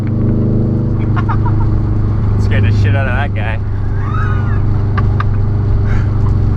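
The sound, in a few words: Subaru exhaust, straight piped with muffler delete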